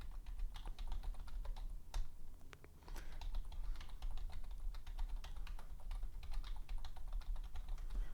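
Fingers type steadily on a computer keyboard, producing a close, quiet run of rapid clicks and taps with a brief pause near the middle and no talking.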